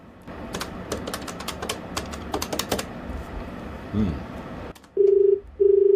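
A phone number is keyed in on a handset, giving a quick run of clicky presses. Two steady ringback tones follow, while faint background speech can be heard.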